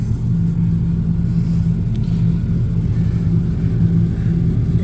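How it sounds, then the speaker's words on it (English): A 2015 Ford F250 truck engine idles steadily nearby, a low continuous rumble with a faint higher whine and no speech over it. "Okay, so I got the truck back running."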